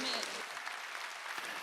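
A church congregation claps together during a Sunday worship service, a dense steady wash of applause filling the whole short moment.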